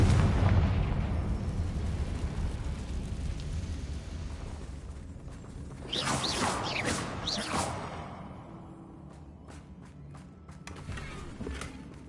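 A Confringo fire spell explodes in the video game Hogwarts Legacy, giving a loud booming burst with a whoosh, then rumbling crackle that fades, with softer game effects near the end.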